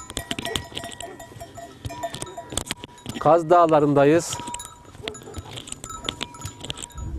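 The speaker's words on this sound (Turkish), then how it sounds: "Burada güzel bir koyun çiftliği var." Sheep on a hillside farm in the villages of Havran, in Turkey's Kaz Mountains, let out a loud, wavering bleat lasting about a second, midway through and close by, amid outdoor rustle and a man's speech.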